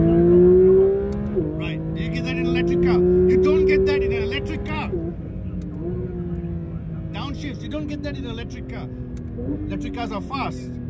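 A Porsche sports car engine revs up with a rising, steadily climbing pitch, loud at first and then settling into a sustained hum while voices talk over it.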